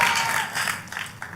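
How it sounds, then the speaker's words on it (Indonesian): Church congregation clapping during an Indonesian sermon, a dense steady patter of many hands at moderate distance that thins out slightly toward the end. "masih gak dosa tepuk tangan saudaraku"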